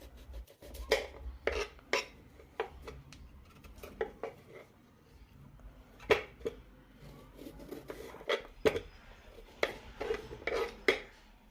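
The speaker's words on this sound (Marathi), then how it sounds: "साल काढून झाली की सुरणच्या बारीक फोडी करून घेऊयात।" Peeled elephant foot yam being chopped into small pieces with a knife on a board, a series of sharp close taps and cuts in irregular rhythm with short pauses, no talking.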